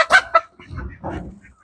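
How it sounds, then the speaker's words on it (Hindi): Ducks kept on a poultry farm quack in a few short, loud honking calls close by, followed by lower muffled rustling and murmuring, with no clear talk. "यहाँ बत्तख भी रखे हैं"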